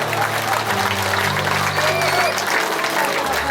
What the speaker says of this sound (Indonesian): Baru tepuk tangan.